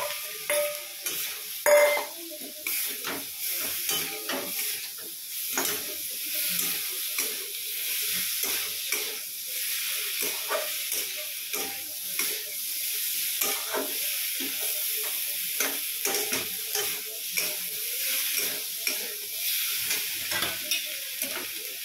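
Okra and potatoes frying in a cooked spice masala, a continuous close sizzle broken by frequent scraping stirs and clatters, steady and fairly loud throughout with no talking.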